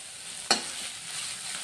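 Curry leaves dropped into hot oil after ginger and garlic, a sharp burst of spitting followed by a steady crackling sizzle close by.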